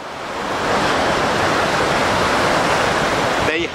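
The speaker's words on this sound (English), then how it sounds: "showing you constructive waves" Constructive waves breaking on the beach at Burnham-on-Sea, Somerset, a steady broad roar of surf washing up the shore, loud and continuous with a brief lull near the end.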